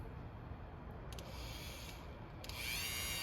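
A Dremel rotary tool gently scrapes corrosion off plug terminals on a 1971 International engine, a soft steady grinding rasp with a faint high whine, rising slightly in level near the end.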